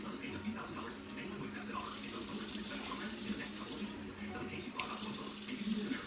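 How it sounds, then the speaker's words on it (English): Tap water runs steadily into a soup pot in a home kitchen while making chicken sausage and sweet potato soup, a continuous close faucet rush lasting throughout with no pauses. "Actually, we're going to do 5 cups of water."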